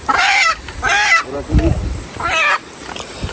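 A chicken clucks and squawks in short bursts close by, with some rustling and low background noise between calls.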